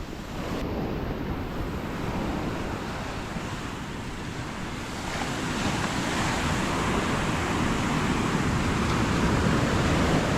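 Sea surge flowing over land and a road floods in as a continuous loud roaring wash of surf, steady and close, swelling slightly louder in the second half with wind buffeting the microphone, no voices.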